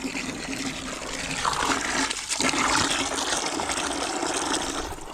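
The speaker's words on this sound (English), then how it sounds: "so that water's running through the filter" Water runs through a household filter in a Philippine village home, a steady close gushing that swells and rushes louder partway through, with no talk.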